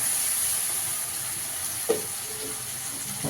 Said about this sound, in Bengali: পেঁয়াজ বাটাটা দিয়েও ভালো করে ভেজে নেব।